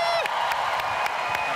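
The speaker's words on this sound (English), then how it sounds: "So let's give him a big round of applause." Applause and cheering at a large corporate shareholders meeting, with a crowd clapping steadily and a few whoops and voices rising over the sustained roar.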